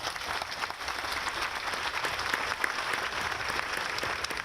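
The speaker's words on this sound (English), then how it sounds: "let's give them another round of applause" Applause from an audience at an outdoor Memorial Day ceremony, a steady dense wash of clapping held at even loudness throughout with no voices over it.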